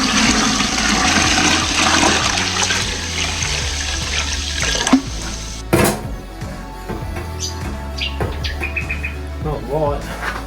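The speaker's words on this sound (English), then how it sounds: "I'm gonna fill this up full of salt water." Salt water gushes and splashes steadily into a container while crabbing in Australia, a loud continuous rush with some clunks and knocks of gear partway through, and no talking.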